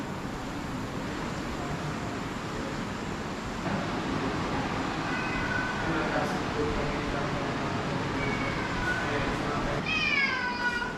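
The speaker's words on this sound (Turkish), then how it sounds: "Bu beni görünce hemen miyavlar." A cat meows several times at a hostel in Kilifi, Kenya, short rising calls toward the end set against a steady background of traffic and ambient hum.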